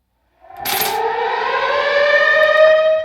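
A civil-defense style alarm siren from a producer's sound-effects pack swells up from silence and holds a rising, wailing tone, loud and clean before cutting off.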